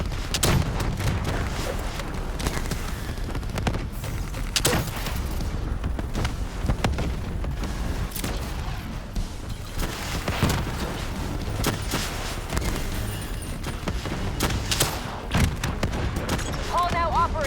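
Dense gunfire in the Call of Duty Black Ops III video game, continuous bursts of shots and booms through a sustained firefight, with occasional voices calling out over the battle.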